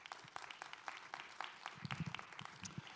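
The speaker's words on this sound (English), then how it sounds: "please offer them a round of applause." Scattered, moderately faint applause in a room at an event honouring Indigenous culture, with individual claps standing out in an uneven rhythm.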